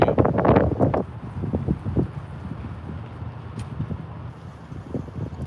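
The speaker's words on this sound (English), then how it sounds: "It's very windy. They said it's the wind." Gusty wind in a Bardstown, Kentucky cemetery buffets the microphone with low rumbling roars, strongest at the start, then a steady blustery rush with a few faint knocks.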